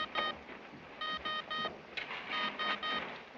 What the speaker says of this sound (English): He's making long-distance telephone calls.